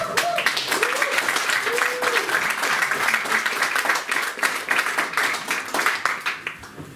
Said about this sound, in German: nochmal bitte einen schönen Applaus für Felix.